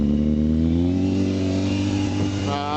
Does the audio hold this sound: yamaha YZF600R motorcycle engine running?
yes